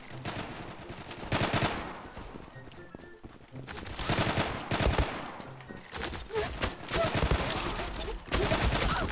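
Gunfire in the online shooter game Zula, including a Glock 18 pistol, comes as rapid bursts and fusillades of shots repeating every second or two, loud and close, with brief gaps between volleys.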